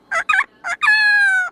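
A parrot imitating a rooster's crow: a few short clipped notes and then a long, loud, sustained tonal call, close and clear.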